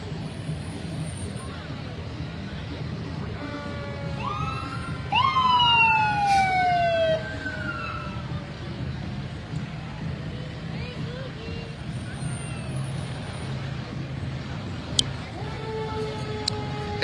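Fire engine sirens of the Elmira Fire Department pass in a holiday parade, with rising and falling wails and a loud horn-like blast in the middle, over a noisy outdoor crowd, with a voice talking nearby.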